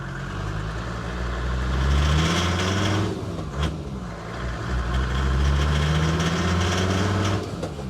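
An OM605 turbo diesel engine fitted in a series 1 Land Rover runs steadily, with a low, even drone that swells and eases a little, as if revs rise and fall, heard close up with no talking.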